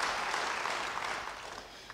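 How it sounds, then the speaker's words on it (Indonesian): A church congregation applauding steadily during a sermon, dense clapping that holds for the whole moment and eases off slightly toward the end. "Yang mau beri tepuk tangan sekali lagi bagi dia."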